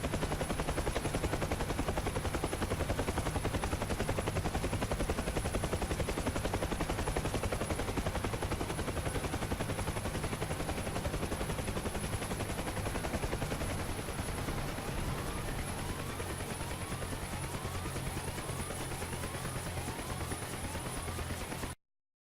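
Helicopter in an autorotation descent at 60-70 knots, a loud, steady rotor chop and turbine whine running continuously and close throughout, with no talk.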